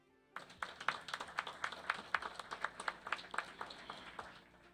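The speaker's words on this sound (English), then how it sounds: "Give them a round of applause." Polite applause at a school district awards ceremony honoring nominees, a modest group clapping in a steady rhythmic patter in a room, fairly faint and fading out near the end.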